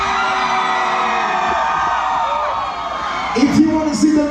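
Concert crowd at a show, a dense sustained roar of many voices with whoops and shouts swelling louder toward the end.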